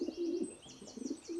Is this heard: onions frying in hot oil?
no